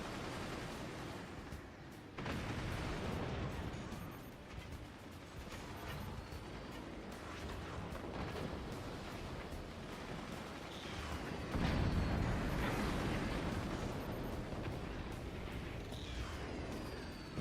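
Cannon gunfire from the Forts RTS video game, a steady barrage of booming shots and battle noise that swells louder partway through, with no talk.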